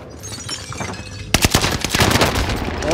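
Rapid automatic gunfire bursts out in Warzone after a quieter opening, loud cracking shots in a fast ragged rhythm that keep going to the end.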